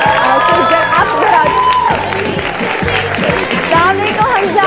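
A studio audience on a morning chat show cheers and claps loudly for actor Hamza Ali Abbasi, a dense crowd roar with voices and tonal sounds rising over it throughout.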